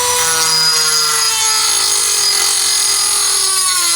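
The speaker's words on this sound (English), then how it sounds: "I'm gonna take a little bit out right there, probably with the Dremel" A Dremel rotary tool fitted with a cutoff disc grinds through metal in a continuous loud, high-pitched whine with a slowly dropping tone, heard close up and alone without any talk, while building an electric garage crane.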